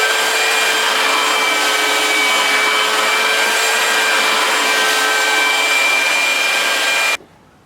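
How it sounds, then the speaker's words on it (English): A belt sander whirs loudly and steadily against a wooden butcher block cutting board for about seven seconds, then cuts off abruptly. "we got a belt sander"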